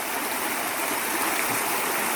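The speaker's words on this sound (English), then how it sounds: "getting quite a bit of water through here" Rainwater rushes through a roadside ditch near a washed-out culvert during steady rain, giving a loud, continuous broadband roar with no pauses or voices.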